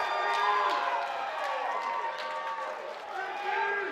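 A wrestling crowd at the Relentless Wrestling Monumental event cheers and shouts for Zicky Dice, a broad roar that runs the whole time under a commentator's voice.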